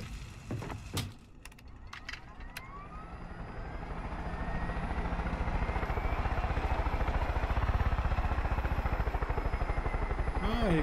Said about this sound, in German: Hubschrauber gibt's ja auch.